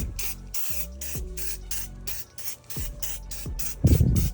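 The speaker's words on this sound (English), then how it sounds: "You could just spray like that." A leather chamois cleaner sprayed onto a car comes out as about nine sharp, evenly paced pump-spray hisses, close and fairly loud, with faint handling clatter between bursts and a louder rustle at the end.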